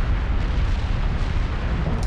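A deep, continuous rumbling roar of heavy volcanic explosions, loud and dense with no pauses, like an eruption heard up close.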